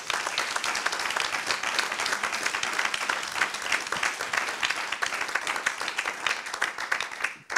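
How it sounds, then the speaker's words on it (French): At a professional conference session on CSRD implementation, the audience applauds its speakers with steady, dense clapping that fills the room evenly for several seconds and then stops abruptly. "il me reste à vous remercier au nom de nos intervenantes que je vous demande d'applaudir"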